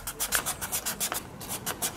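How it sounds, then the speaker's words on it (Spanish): Wet sandpaper rubs back and forth over a repaired surface in quick, regular strokes, close up and fairly loud, with no talking. "tengo un trozo de lija al agua y vamos a ver si, si es lijable"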